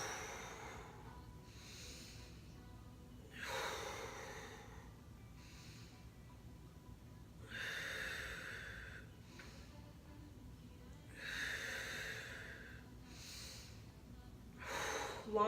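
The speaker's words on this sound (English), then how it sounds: "Long, deep breathing." Long, deep breaths during Kundalini yoga practice, slow rhythmic inhales and exhales repeated in even cycles, quiet and close-miked.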